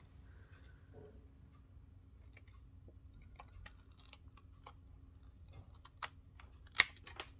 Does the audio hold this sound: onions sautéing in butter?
no